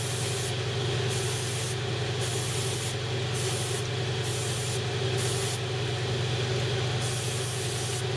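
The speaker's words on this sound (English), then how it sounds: "I will respray another layer of primer on all I'll do in the video" Spray primer hisses onto a Bandai Halo Master Chief model kit in about seven short bursts, each a close, bright spray lasting roughly half a second, over a steady low background hum.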